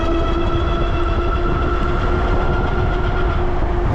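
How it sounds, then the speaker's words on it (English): Ariel Rider Grizzly dual-motor e-bike with its second motor engaged while riding, giving a steady loud whir with rumbling road and wind noise throughout. "You can hear it kick in, and it just pulls you"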